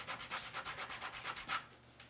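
Rapid rhythmic rubbing strokes of sanding a leather wallet edge, about eight quick back-and-forth passes close up, then fading to quiet.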